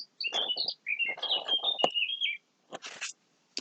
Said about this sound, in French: Ah, les petits oiseaux sont là.